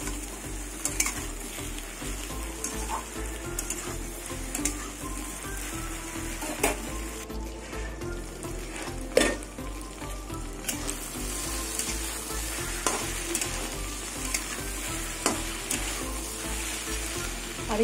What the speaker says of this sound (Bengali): এবার গ্যাস কমিয়ে কমিয়ে ভাজবো লতিটাকে।